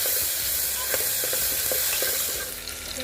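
Tomato sizzles in a hot pan for a drumstick amti, a dense, steady hiss of frying close up, punctuated by scraping and stirring clicks, with the sizzle easing slightly near the end.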